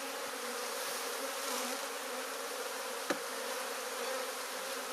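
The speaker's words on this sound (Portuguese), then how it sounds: "Muita abelha, né?" A swarm of honey bees buzzes around a nest during a honey harvest, a dense, continuous droning hum close by, with one brief tap partway through.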